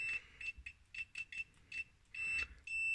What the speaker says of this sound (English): And very loud beep.